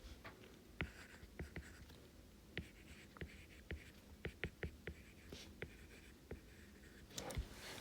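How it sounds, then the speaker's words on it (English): Pen or pencil scratching across paper while a math problem is written out by hand, a quiet run of short scribbling strokes and taps in an uneven rhythm, close and soft, with no talking. "I'm writing this out like fully to help you guys understand a little bit better."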